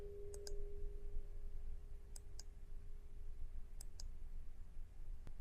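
Mouse clicks during a management-console software demo come as sharp, isolated ticks, mostly in close pairs spaced a second or two apart, faint against a steady low hum and a thin background tone, with no talking.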